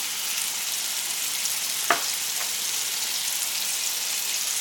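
Frozen smash burger sliders frying, a steady close hiss and crackle of sizzling fat with one brief louder pop partway through.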